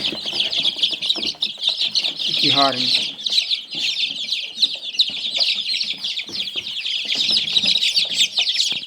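Many small Amrox chicks peeping and chirping constantly in high, busy chatter, close by, with a brief spoken remark partway through.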